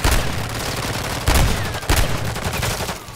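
Rapid gunfire in a video game, several loud close shots and bursts over constant background battle noise, with no one talking.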